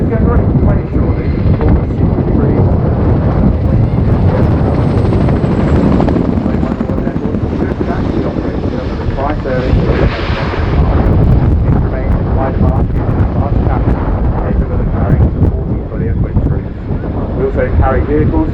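RAF Chinook twin-rotor helicopter flying a display at the RIAT airshow in 2019, a loud, steady roar with rotor thrum and heavy wind buffeting across the whole stretch, with a commentator's voice over it.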